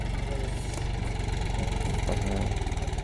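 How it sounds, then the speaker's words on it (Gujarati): A tractor arriving in a field for ploughing before wheat sowing, its engine running in a steady, pulsing idle that stays loud and continuous throughout. "અને જો ટ્રેક્ટર ખેતરમાં આવી ગયું છે અને ખેડવા આવી ગઈ છે."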